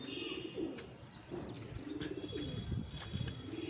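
A flock of pet pigeons, including young ones, coos in repeated low rolling calls, with light chirps and small rustles in a soft, close setting.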